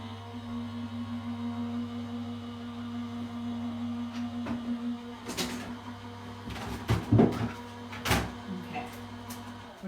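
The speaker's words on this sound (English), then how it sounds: "Always check the plates before you put them through your machine." Card die-cutting and embossing machine running plates through, a steady mechanical drone with rattling clunks and creaks near the end as the plates pass, close by with no talk.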